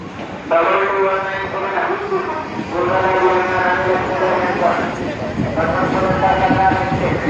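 A local train pulls out of Burdwan Junction, its loud, steady rumble filling the whole stretch while voices talk over it.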